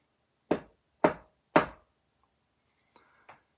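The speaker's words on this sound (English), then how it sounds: "He knocked again." Three firm, evenly spaced knocks land on a door, loud and close in a quiet room, followed by a few faint taps and shuffling sounds.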